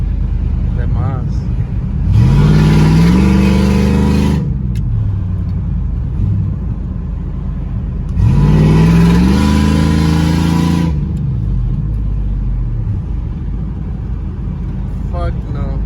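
A loud Ram truck engine with a broken, popped exhaust pipe revs hard twice with a raspy, blatting roar, idling rough between bursts.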